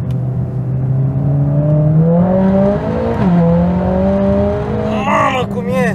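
Mercedes-AMG A45 S accelerating hard on a race track, its engine note climbing steadily through a gear in a continuous loud rising drone, with a sharp shift dip near the middle and a burst of higher whine at the end.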